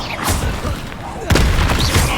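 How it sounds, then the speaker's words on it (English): An Expelliarmus spell cast in Hogwarts Legacy lands with a loud booming impact partway through, amid other crackling spell effects and brief bursts. "Expelliarmus."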